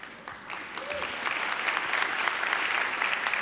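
An audience applauds during a mayor's State of the City address, the clapping swelling from a lighter start into a full, steady round from a large crowd, heard from a distance.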